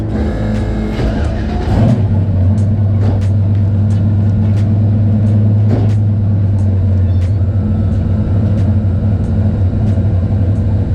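A car engine on a dyno at full throttle, a loud, close, steady droning roar holding at high revs with a sharp rise early on and a low rumble underneath, with no talk.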